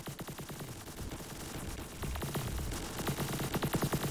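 Rapid bursts of automatic gunfire in a first-person shooter match, sharp repeated shots in quick rhythmic volleys with steady static-like noise behind, loud and continuous throughout.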